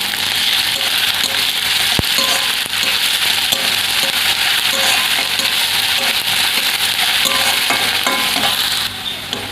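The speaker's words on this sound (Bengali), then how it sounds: "এবার দিয়ে দেবো রসুন বাটাটা, রসুনটাকে ভেজে নেব" Garlic paste frying with onions in a home kitchen pan, a continuous loud sizzle with scraping stirs and a sharp clink of the spatula against the pan.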